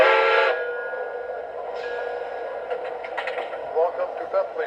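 An MTH Central Railroad of New Jersey model train set with custom sounds arrives, giving a loud whistle blast, a second shorter toot, then a steady rolling rumble. Voices can be heard over it.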